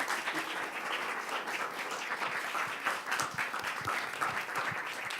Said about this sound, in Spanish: Así que bueno, otro aplauso,